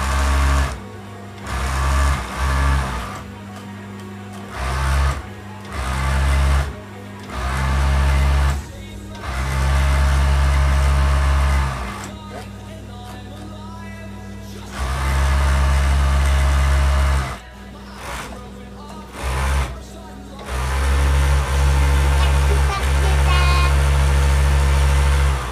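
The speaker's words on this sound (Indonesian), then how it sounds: "mesin obrasnya sudah kita nyalain, lalu sekarang kita tinggal mengobras si pinggiran ininya ya" Overlock serger running along the edge of a heart-shaped pillowcase, loud close bursts of rapid whirring that start and stop repeatedly with short pauses between runs.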